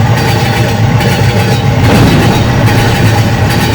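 A train rumbles past steadily and loudly, a continuous heavy roar with no pause.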